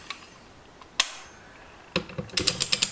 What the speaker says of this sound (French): Vous utilisez une douille de 17